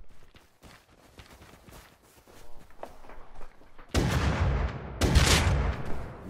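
Gunshots in Rust Console Edition, scattered thuds and cracks followed by two loud close bursts of fire in the final seconds.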